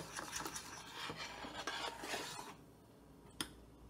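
A spoon stirs a pot of liquid close to boiling, giving a soft scraping, swishing rasp that continues for a few seconds, then fades into quiet before one brief knock against the pot.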